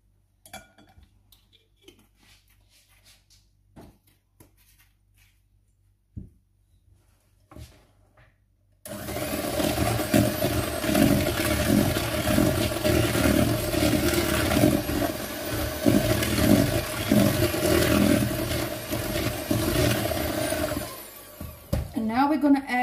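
An electric mixer whirs loudly and continuously through banana bread batter after several seconds of quiet clinks and taps, the motor drone steady until it cuts off near the end.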